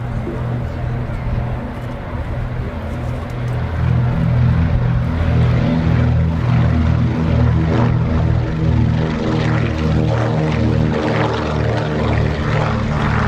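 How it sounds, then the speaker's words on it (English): A Consolidated PBY-5A Catalina amphibian makes a short takeoff from Duxford's runway at a 2017 air show, its propeller engines droning loud and steady throughout, swelling to a fuller roar partway through. "the hugely distinctive shape of the consolidated PBY 5A Catalina"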